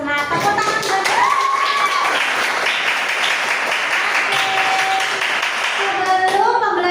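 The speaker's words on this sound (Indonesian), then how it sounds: "Tepuk tangan buat mereka." A classroom of children clapping for their classmates, loud continuous clapping with a few high voices calling out over it.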